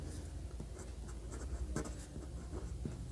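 Marker or chalk writing on a board during a physics lesson on Coulomb's law in vector form, faint continuous scratchy strokes with a few sharper taps, no talking.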